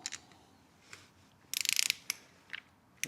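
A ratchet with a small adapter clicks in quick close bursts while torquing bolts on a Mutt Hilts 125 motorcycle, with short pauses between strokes.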